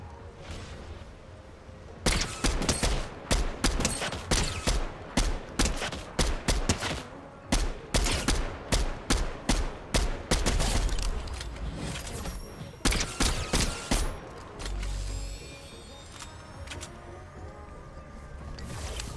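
Bursts of rapid gunfire from a Fortnite match ring out in repeated volleys, loud and close, with short pauses between strings of shots and no talk.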